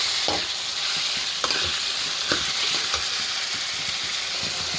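Chicken frying in oil in a pan for a home-style green chicken curry, a constant loud sizzle broken by several scraping stirs of a spoon at irregular intervals, close and with no talking.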